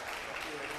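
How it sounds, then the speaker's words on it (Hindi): Audience clapping at an anniversary event, a steady dense wash of applause filling the whole short moment with no pauses. "तालियां बजती रहनी चाहिए।"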